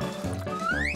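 A cartoon liquid gush sound effect plays for a mermaid's water breaking, a short wet sloshing burst ending in a rising bubbly glide, loud and close, with no talking.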